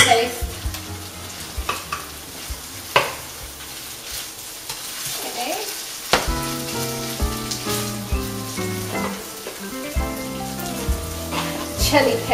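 Beef mixture with tomato paste fries in a pan, giving a steady sizzle broken by frequent scraping and clinking of stirring, close up, with occasional soft background tones and no talking.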